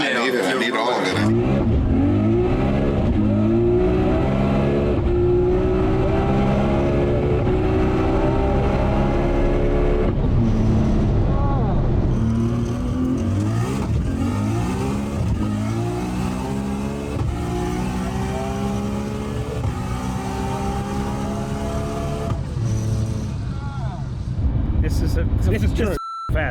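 An 1100hp Nissan R32 GT-R revs hard during a ride-along at Powercruise Sydney, with a loud, sustained engine roar rising and falling through repeated gear pulls, and voices talking over it.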